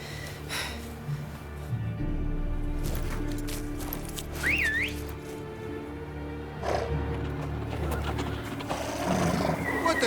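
Horses in The Witcher 3: Blood and Wine give a high, wavering whinny near the middle of a busy game scene, over low rumbling ambience and scattered thuds, with a voice heard briefly.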